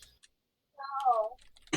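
A house cat gives a single drawn-out, whining meow at close range, with faint clicks and a brief burst of noise around it.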